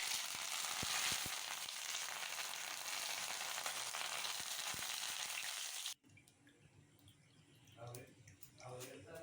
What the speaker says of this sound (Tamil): ஒரு கைப்பிடி கருவேப்பிலை போட்டுக்கலாங்க. அதையும் பொரிச்சு எடுத்துக்கலாம்.